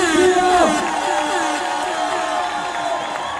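Crowd at a dance battle cheering and whooping for the winning team Yonki Lab, a dense, loud roar of voices with shouts sliding over it, sustained for a few seconds.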